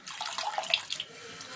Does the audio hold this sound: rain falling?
no